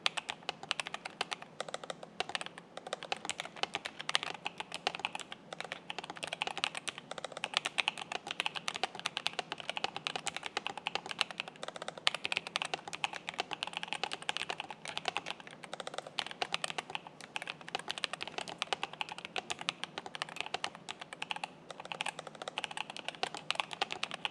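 Steady, rapid clacking of keys on a NuPhy Air 75 V2 low-profile mechanical keyboard, continuous and close, with no voices.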